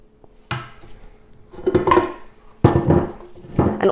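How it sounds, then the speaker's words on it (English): Spatula or spoon knocking and scraping against a bowl while buttercream is mixed, three clattering bursts with short gaps, close and fairly loud. "I'm just going to mix around the side of the bowl"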